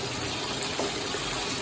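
A pot of chicken biryani rice at a vigorous boil, dense bubbling and gurgling water filling a brief, close, continuous stretch.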